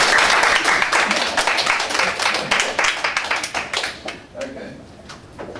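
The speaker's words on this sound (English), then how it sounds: "clap for it" A lecture audience claps after a talk, a brisk burst of many hands that thins into scattered claps and fades out, with some talk mixed in.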